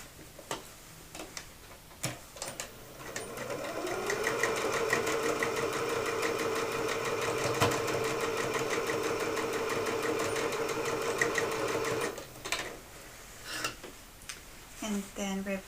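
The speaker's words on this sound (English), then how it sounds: "you're going to stitch 3/8 with a 3/8 of an inch seam allowance from side to side, reinforcing with the back stitch at the beginning and the end" A domestic sewing machine runs steadily for several seconds, stitching a 3/8-inch seam across a large tote bag with backstitching at the ends, a close, even mechanical whir, preceded and followed by scattered clicks and handling taps.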